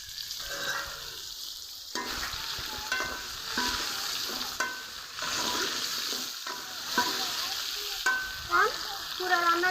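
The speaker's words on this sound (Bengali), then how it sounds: "এখন মিষ্টি কুমড়াগুলো ঢেলে দিব" Pumpkin pieces tip into hot oil seasoned with a bay leaf and panch phoron, frying with a steady loud sizzle while a spoon stirs and scrapes the pan in uneven strokes throughout, with no talk.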